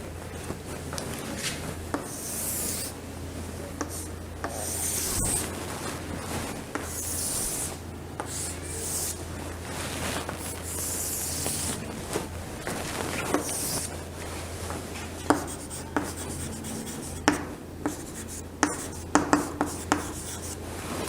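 A pen scratches across paper while someone hand-draws a small table, with rubbing strokes and intermittent light taps that grow more frequent toward the end.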